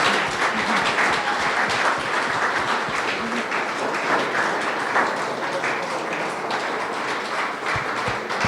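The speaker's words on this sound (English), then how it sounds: "huge round of applause" Sustained crowd applause for contestants at a humorous speech competition awards ceremony, a dense, steady wash of clapping from a full room that continues throughout.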